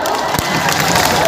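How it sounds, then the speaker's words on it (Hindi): An audience at an outdoor mushaira poetry gathering claps and cheers in a dense, continuous burst of applause filling the whole moment, loud and close. "ताली बजाइए आप लोग"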